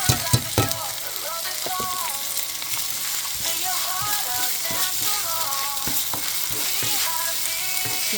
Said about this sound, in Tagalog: So yan ang ating mixed vegetable. Igisa lang natin.